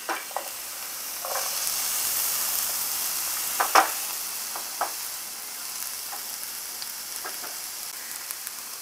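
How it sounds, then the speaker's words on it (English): Red onion and chopped garlic sizzle steadily in hot olive oil, a continuous bright hiss with a few sharper crackles and pops scattered throughout, close and alone with no talking. "now I'm going to go ahead and drop in my red onion."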